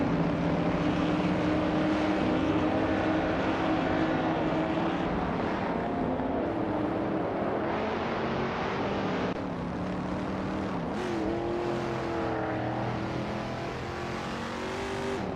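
A 1963 Chevrolet Corvette C2 race car engine in a racing video game drones steadily throughout with shifting pitch as it revs, loud and continuous with no talking.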